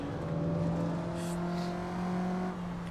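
A Mazda MX-5 at speed on a flying lap of the Lime Rock race track at Miatacon, its engine a steady, close, continuous drone with strong tonal harmonics that hold an even pitch throughout.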